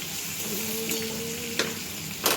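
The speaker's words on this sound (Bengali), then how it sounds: "এবারে ভেজে নেব হালকা" Biryani ingredients fry lightly in a pan with a steady, close sizzle and a couple of brief stirring knocks, with no talk.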